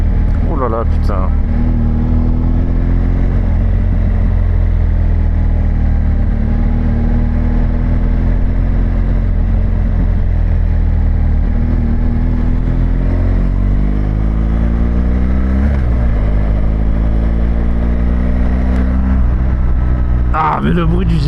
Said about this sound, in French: Ah mais le bruit du GS quand même.